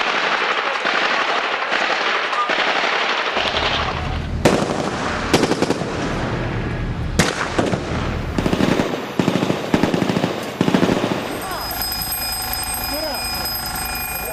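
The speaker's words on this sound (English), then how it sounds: "There was also sustained firing." Sustained gunfire echoing through bomb-damaged streets during a gun battle in a NATO-patrolled area, sharp cracks and bursts scattered over a loud, continuous noisy background, with a high alarm-like tone toward the end.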